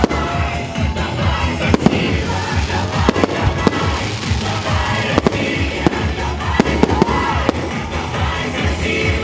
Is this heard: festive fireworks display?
yes